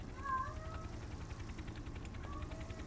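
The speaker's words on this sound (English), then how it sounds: "Oh, that cat." A house cat meows several times indoors, short tonal calls rising and falling at moderate distance over a steady low background hum, with no talking.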